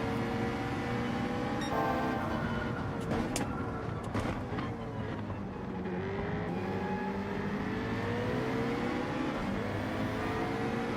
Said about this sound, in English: That Citroen's really quick on acceleration, isn't it?